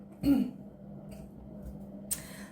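A single short, rough cough or throat-clear stands out near the start, followed by quiet room tone with a faint click later.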